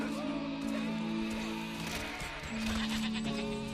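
Sheep in the video game Overlord bleat in several drawn-out, wavering calls over game sounds, with a faint voice speaking quietly underneath.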